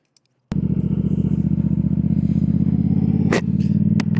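A Triumph Speed Twin RS motorcycle engine fires up abruptly after a brief silence and then runs steadily with a loud, close, throbbing twin-cylinder drone, with a couple of sharp clacks near the end.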